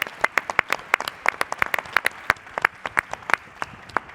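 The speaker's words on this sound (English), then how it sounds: "you have to accept that we will clap now once again" A conference audience at a cardiology meeting on mitral regurgitation claps in a brisk, steady patter of individual hand claps, close and clear, with no voices over it.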